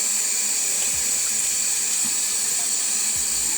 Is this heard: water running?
yes